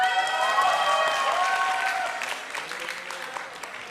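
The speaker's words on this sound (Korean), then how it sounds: "열심히 박수와 힘찬 함성 부탁드리겠습니다" A crowd at a 2014 Kyungil University campus festival claps steadily and loudly for a performance, with bright tonal sounds over the first half before the applause thins and fades a little.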